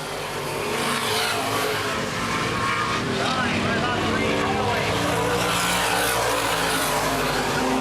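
Open-wheel modified race cars roar around Baer Field Speedway during a 2011 feature race, a continuous loud, dense engine drone with an announcer talking over it.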